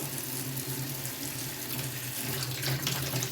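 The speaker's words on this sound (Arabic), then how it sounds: "انا قلبت حته اهي بايدي واجي تحت الحنفيه اهي" Water runs from a kitchen tap over tripe being rinsed by hand, a steady close splashing stream with shifting spatter as the pieces are turned beneath it.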